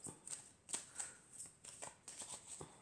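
Tarot cards being shuffled by hand, quiet soft riffles and flicks repeating in short bursts close up, with no voice over them.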